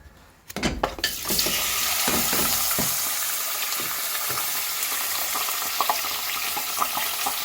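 Mutton hitting hot oil in a pressure cooker on the stove, with a few clattering knocks as the meat goes in, then a loud, steady sizzle that continues close by with small pops, no talking.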